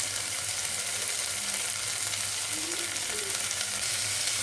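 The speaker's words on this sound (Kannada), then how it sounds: "ತೊಗೊಂಡಿರೋ ತರಕಾರಿ ಎಲ್ಲ ಚೆನ್ನಾಗಿ ಫ್ರೈ ಆಗಬೇಕು." Mixed vegetables for a soya bean dish frying in a pan with green chillies, giving a dense, continuous close-up sizzle of hot oil at an even level throughout, with no speech.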